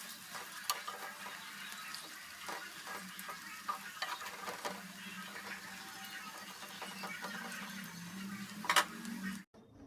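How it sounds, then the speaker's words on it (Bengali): Pakoras frying in hot oil in a home kitchen give a steady, low sizzle with scattered light clinks and taps throughout, no voices, ending in a brief louder clatter before a sudden cut. "ওদিকে পকোড়াটা ভাজা হোক"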